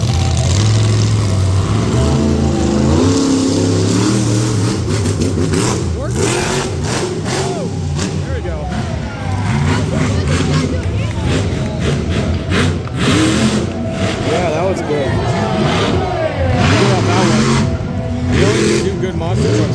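Monster truck engines roar and rev at a live show in Frederick, Maryland, loud and close, with repeated throttle surges and rumbling idle between them, while people talk nearby over the noise.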